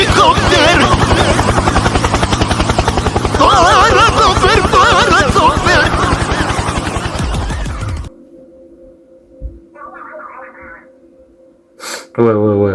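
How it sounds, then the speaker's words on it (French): A helicopter in the Splatoon Raiders video game chops loudly and rhythmically for about eight seconds, with voices over it. It then cuts to near silence with a few faint blips. "Hélicoptère, hélicoptère."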